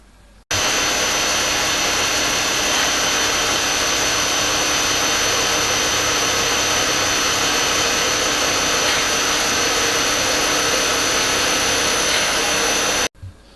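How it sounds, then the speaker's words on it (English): A steady, loud machine whine runs without a break for about twelve seconds, starting and stopping abruptly, like a drill press spinning, while centre drilling a hole in a hinge piece. "come in equidistant from the end to half the width and centre drill."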